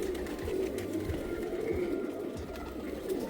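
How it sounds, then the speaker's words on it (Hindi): An old racing pigeon in a loft is heard amid a continuous murmur of low, overlapping cooing from several birds nearby, steady and soft with no voices. "एक और काफ़ी पुराना कबूतर है ये"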